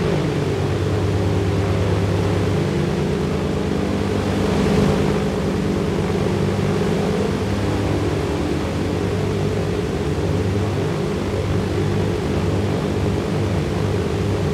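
A propeller airplane engine drones steadily during takeoff in a flight video game, a loud, even hum with layered tones lasting throughout and no talking.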